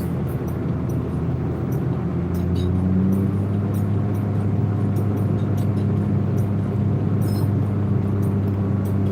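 Steady, loud engine drone of a car holding maximum cruise-control RPM on a desert highway, a constant low hum with road rumble running unbroken throughout.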